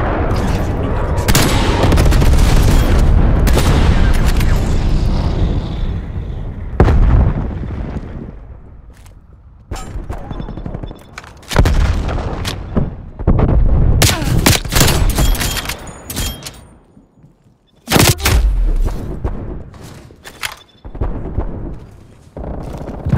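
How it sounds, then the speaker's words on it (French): Heavy artillery barrage and gunfire in a Cold War-era shooter, with loud booming impacts, crackling bursts and rattling shots arriving in irregular clusters, some near and punchy, separated by short quieter gaps. "L'artillerie ennemie vous cible."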